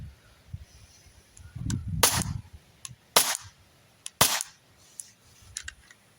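An Umarex Glock 17 Gen 5 pellet pistol fired in several sharp, close cracks spaced irregularly about a second apart, with faint clicks between shots and brief low rumbling handling noise.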